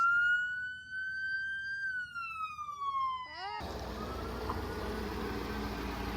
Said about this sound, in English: I hear sirens, which means the parade is starting